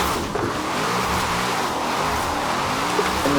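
A car drifting in the video game Forza Horizon 4 at a steep angle, its engine roaring loud and steady as it holds a long slide, with tire noise blended under the constant drone.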